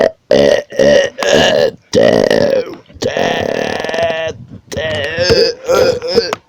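Loud, drawn-out burps repeated one after another, close up and strained, some stretching into moaning groans, with short silent gaps between them.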